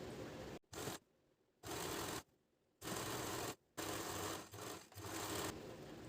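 A sewing machine stitches a girl's summer dress in bursts, with runs of steady whirring broken by short pauses, close and fairly loud, with no talking.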